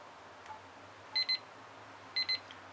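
Two short bursts of a timer alarm ringing about a second apart, each a quick double electronic beep, clear above a quiet room background.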